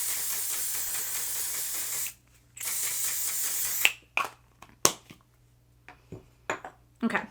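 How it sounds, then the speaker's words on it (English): Setting spray misted onto a face during a makeup routine: two short, close hissing sprays, followed by light clicks and handling noises as the bottle is set down. "Setting spray."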